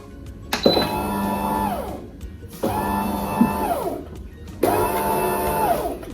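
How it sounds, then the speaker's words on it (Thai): An automatic bread machine mixes dough for a soft loaf, its motor whirring up in three repeated bursts with short pauses between, each surge steady and mechanical at close range. "เครื่องก็ทำการผสมให้เรานะคะ"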